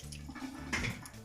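Water is poured into a cooking pot and swirled to rinse it out after making Jamaican green plantain cornmeal porridge: a short, close splashing wash in a kitchen with no talk.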